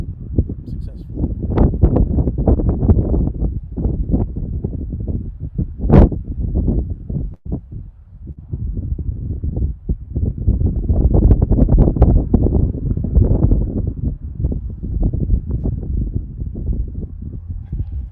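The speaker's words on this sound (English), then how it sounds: "There is a lot of wind around." Strong wind buffets a microphone at an airport during plane spotting, a loud continuous roar with gusty swells and occasional thumps across the whole stretch.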